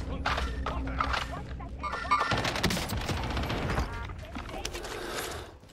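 Rapid bursts of video game gunfire crackle in quick volleys with a pistol in play, loud and close, mixed with dense game sound effects and excited player voices talking over the action.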